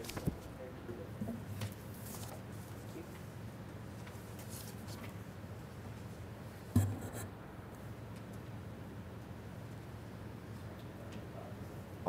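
Paper rustles and shuffles close by during an airport commission meeting, soft scratchy handling sounds with a single sharper tap partway through, over a quiet room murmur.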